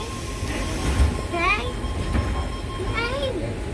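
A train in Sydney, heard from on board as a steady rumble under voices, with a door-closing chime, a sustained tone and faint squeals before an announcement.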